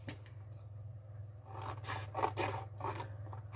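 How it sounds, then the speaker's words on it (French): Scissors snip through a folded paper sheet along a crease in repeated short, close rasping strokes, steady and fairly soft, over a low hum with no voices. "On coupe jusqu'à la deuxième ligne de pli"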